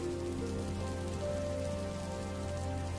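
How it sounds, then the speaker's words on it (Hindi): Steady rain pattering on a surface, continuous and even throughout, with no voices. "ये बारिश तो बढ़ती ही जा रही है।"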